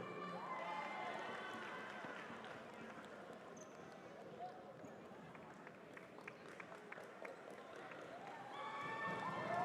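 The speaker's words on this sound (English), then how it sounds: "One more round of applause for your silver medalist for this competition, Papua New Guinea." A faint, distant crowd applauds and cheers steadily at a basketball medal ceremony after a FIBA Melanesian Cup final between Papua New Guinea and Fiji, with a voice speaking over the noise.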